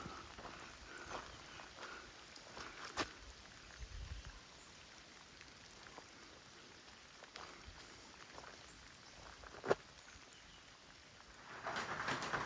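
Steady rain patters across the whole stretch, a soft continuous wash with occasional sharper drops and a louder gust of downpour near the end.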